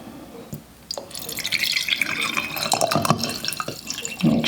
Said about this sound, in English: Pour some vinegar in.